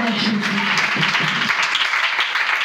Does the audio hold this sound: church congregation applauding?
yes